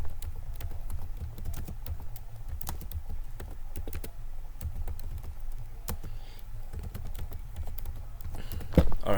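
Close, rapid keystrokes clatter on a computer keyboard in an uneven rhythm, with a slightly louder tap near the end and no talking.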